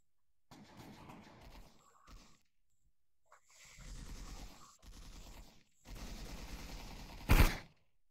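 Bursts of rapid gunfire in the VR shooter Bullets and More, coming in several separate volleys of varied length with brief gaps, ending in one sharp, louder blast.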